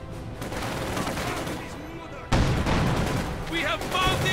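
Bursts of rifle and machine-gun fire crackle through a World War II battle in the real-time strategy game Company of Heroes 2, with a sharper volley midway and a few high pings near the end.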